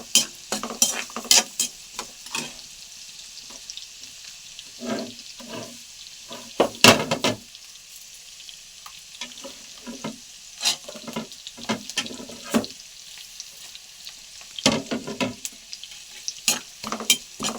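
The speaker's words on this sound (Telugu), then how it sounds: "ఉల్లిపాయలు, పచ్చిమిరకాయలు వేసి కొంచెం వెల్లుల్లిపాయలు వేసి వేపాలండి." Onions, green chillies and garlic fry in peanut oil, with a steady sizzle under repeated close scrapes and knocks of a spoon stirring the pan, no voices.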